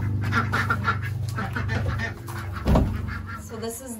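Ducks quack inside a homestead barn with separate coops, a busy stretch of close calls over a low hum, a louder honk-like burst partway through, then fainter quacking.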